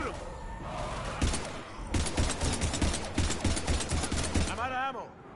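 Dense automatic gunfire from a Mass Effect 3 firefight comes in loud rapid bursts over several seconds, mixed with game voices and effects.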